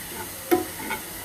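Onions browning in oil for beef trotter nihari, a brief soft sizzle with one louder stir or scrape midway, close and quiet.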